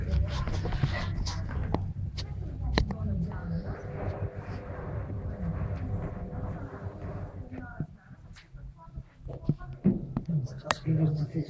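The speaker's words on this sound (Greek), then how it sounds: "Το καλύτερο σκυλί έχω." A dog gives short whimpers and a few barks amid quiet outdoor sounds, with someone speaking to it and praising it in between.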